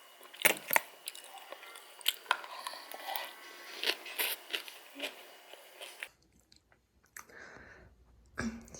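Packaged vegetable rolls being eaten up close: soft bites and moist chewing with small crunchy clicks, a few sharper bites, then near silence with a couple of faint final chews.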